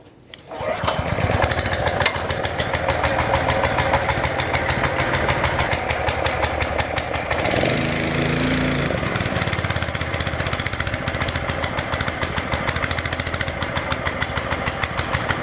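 An SCU 100P high-pressure 4500 psi scuba gas compressor starts and runs steadily, a loud close-up motorized clatter with a fast regular knocking pulse that continues evenly throughout.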